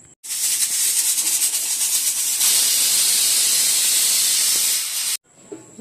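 Water poured into a hot cooking pot gives a loud, steady hiss of steam and sizzle that runs for about five seconds and then cuts off abruptly, heard close up in a home kitchen.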